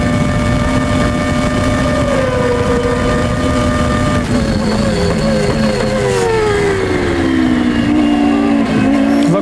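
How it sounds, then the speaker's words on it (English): A Formula One McLaren race car recorded onboard during the 1994 race at Imola, its engine screaming loud and close throughout, with the pitch sliding up and down through gear changes. "The race goes on. You're riding with Mika Hakkinen in third place"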